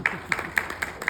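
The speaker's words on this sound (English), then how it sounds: "A big round of applause for her, please." A clapping audience at a stage event, heard as a brief run of evenly spaced, crisp claps, close and moderately loud, lasting about a second.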